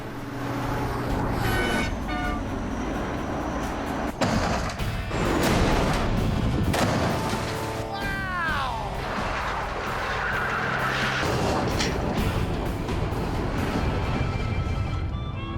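A truck slams into a car at 50 miles an hour: a sharp, loud crash impact followed by grinding metal, screeching and rumbling debris over roughly fifteen seconds of heavy noise.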